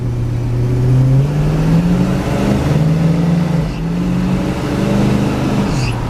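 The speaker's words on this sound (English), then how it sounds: "Nice dual exhaust, got a rumble to it." A 1963 Chevrolet Nova 2-door hardtop engine rumbles steadily through a dual exhaust, its deep low tone rising and falling slightly as it idles and revs, close and loud with no talking.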